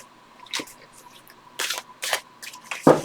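A tarot card deck being shuffled, heard as several short papery riffles and slaps separated by brief pauses, close by and moderately loud.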